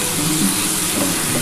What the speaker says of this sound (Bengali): খুব ভালো করে কষিয়ে নিতে হবে,